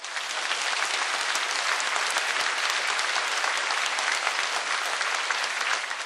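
Sustained, dense applause from a large audience opening an inauguration ceremony, steady and loud throughout with no pauses or voices rising above it.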